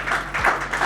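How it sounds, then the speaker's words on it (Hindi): An audience at an award ceremony in Dehradun bursts into loud, sustained applause, with many hands clapping together in dense bursts throughout. "एक बार जोरदार ताली हमारे महापौर जी के लिए"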